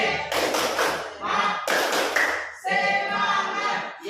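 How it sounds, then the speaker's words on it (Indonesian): A classroom of students performs a rhythmic spirit clap, bursts of many hands clapping in patterned groups with pauses between, loud and close, with voices chanting along. "selanjutnya kita akan tepuk semangat"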